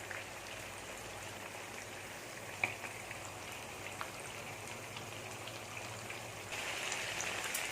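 Chicken shallow frying in a pan gives a steady, close sizzle and crackle with faint pops throughout, growing slightly louder near the end, with no talking.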